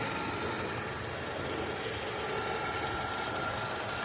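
A 2010 Toyota Camry's 2.5 liter 4-cylinder engine idling with the hood open, a steady low broadband rumble heard up close, continuous and even with no talk.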